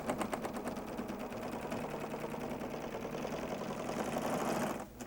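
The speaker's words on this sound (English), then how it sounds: "now we'll stitch it right in that area just a little bit deeper" A serger stitching strips of quilt fabric, a fast, even mechanical whir running steadily at close range, then stopping abruptly near the end.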